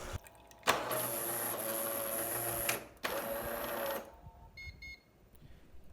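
A rebuilt Jura Impressa S/X/XS coffee machine runs its cleaning cycle, giving a steady close mechanical whir and pumping drone in two sustained stretches separated by a short break, then falling nearly quiet.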